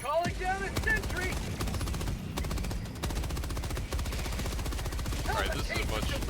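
Rapid automatic gunfire from a deployed sentry turret in the video game Helldivers 2, loud sustained bursts over battle noise and explosions, with a voice speaking briefly at the start and end.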